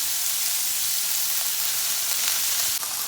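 A pepper chars in a hot pan, giving a close, continuous sizzle and crackle with a couple of faint clicks near the end.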